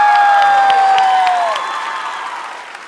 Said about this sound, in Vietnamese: một tràng vỗ tay nồng nhiệt cho bạn nhỏ của chúng ta